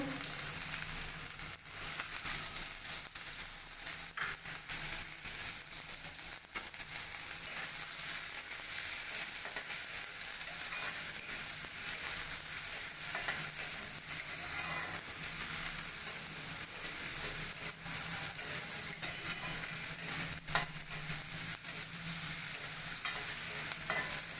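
Chopped chilies and onions frying in a pan, with a steady close sizzle and crackle throughout and occasional stirring scrapes, no voices.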